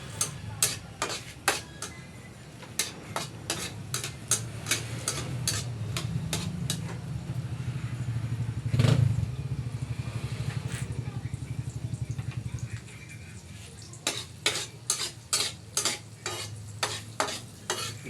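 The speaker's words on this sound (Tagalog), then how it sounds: "Gisa mo natin yung konti mga idol sibuyas." Onions sautéing for tofu sisig, a steady low sizzle under repeated sharp clicks of a spatula stirring against the pan, close and continuous.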